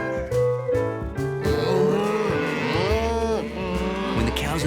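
Several cows moo in long, drawn-out calls that overlap, loud and close, with a steady background hum and no talking, in a cartoon.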